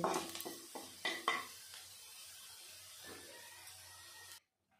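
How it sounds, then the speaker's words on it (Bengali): Onion and garlic sizzle quietly in a wok while a utensil scrapes and clanks against the metal in a few sharp stirs early on, then the frying fades to a soft hiss before cutting off. "পেঁয়াজ রসুনটা ভালো করে ভেজে নিয়েছি"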